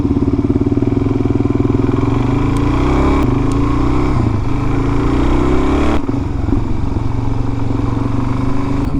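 A Suzuki DRZ400 dual-sport motorcycle with the fender deleted rides along a road, its single-cylinder engine thrumming steadily and close, with the engine note shifting a few times as the rider changes speed.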